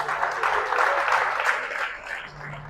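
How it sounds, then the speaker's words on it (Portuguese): A church congregation applauds during a sermon, steady dense clapping that swells and then tapers off. "Aplaudam o Senhor"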